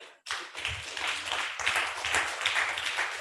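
An audience at a panel session on land restoration and food security claps for the panelists, a steady, full round of applause that swells after a sharp start and carries on evenly.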